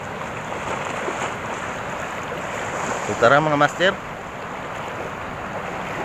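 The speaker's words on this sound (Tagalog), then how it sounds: "Lalaki ng alon. Parang may bagyo." Rough ocean waves and wind roar in a constant wash at a shore-fishing spot, with a voice speaking briefly over the surf midway.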